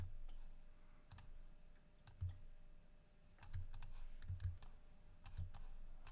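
Computer keyboard keys and a mouse clicking during work in Adobe Illustrator, faint, sparse, irregular clicks in small clusters over a quiet room hum, with no talking.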